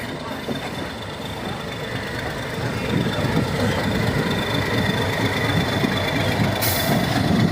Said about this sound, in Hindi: समय से 20 मिनट की देरी से हमारी ट्रेन अंडाल रेलवे स्टेशन से निकल रही है